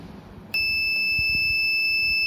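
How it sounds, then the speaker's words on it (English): After a brief quiet moment, a piercing electronic buzzer tone starts abruptly and holds steady, loud and continuous until the end. "the buzzer is making the sound"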